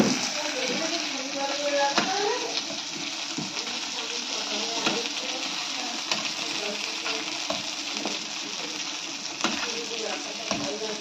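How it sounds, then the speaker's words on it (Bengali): Steady sizzling of peas frying in a pan, with occasional stirring clicks and scrapes, close and continuous throughout. "আর এখানে মটর ভাজা হচ্ছে।"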